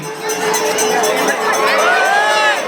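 A large festival crowd watching a seven-tier human-pyramid salute roars and cheers loudly and continuously, a dense wash of voices with whistling rising through it.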